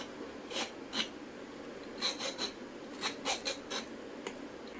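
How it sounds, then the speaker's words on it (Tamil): A peeler scrapes the skin off a ridge gourd in short, rasping strokes, single and then in quick clusters, close and fairly faint over a low background hiss, with no talking. "தோலை வந்து இப்படி சீச்சிடணும் எல்லாத்தையுமே."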